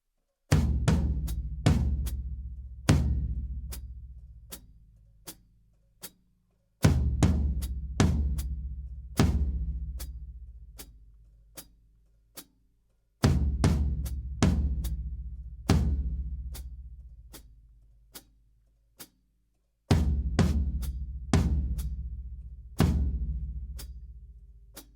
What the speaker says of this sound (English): So that first bit of the intro sounds like this.